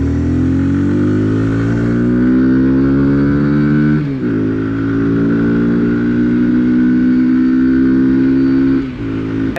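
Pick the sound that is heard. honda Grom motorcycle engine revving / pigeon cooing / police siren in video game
honda Grom motorcycle engine revving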